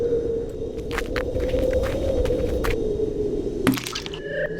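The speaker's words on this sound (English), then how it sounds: "Bash my head in with this stone. End my pain, littlest penguin." In a video game, a small penguin bashes an old penguin's head with a stone, heard as a single sharp, wet crack that cuts through a low, rumbling ambience.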